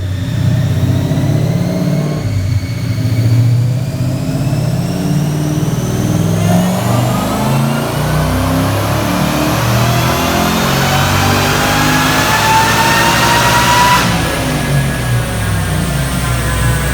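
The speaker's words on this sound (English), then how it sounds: "Check out this dyno video" A Roush supercharged Coyote V8 in a 1976 Ford F100 runs on a dyno, roaring loud and close with steady rising revs and harmonic whine climbing through several pulls.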